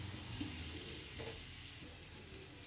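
Onion frying in a pan for a Hindi suruaa soup recipe, a steady broadband sizzle with soft stirring scrapes, moderately quiet and continuous with no voices.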